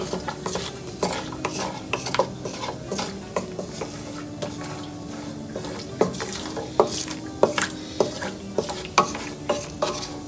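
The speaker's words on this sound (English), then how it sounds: "you want to saute the cashews on a low flame" Cashews sautéing on a low flame for carrot halwa, with a quiet sizzle under repeated sharp clinks and scrapes of a spoon stirring against the pan, close and rhythmic.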